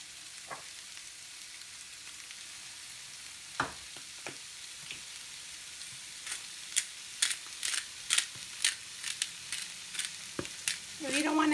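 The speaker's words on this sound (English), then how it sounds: "Shrimp usually cooks in about 3 minutes." Shrimp frying in a pan for tacos gobernador, a steady soft sizzle running throughout with a run of sharper crackles and pops building toward the end, close and fairly quiet, no talking.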